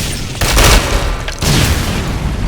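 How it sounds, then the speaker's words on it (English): Concussion grenade blast in Ghost Recon Online, a loud booming burst followed by a second heavy rumble among ongoing game gunfire, close and forceful. "There was a concussion grenade that went off"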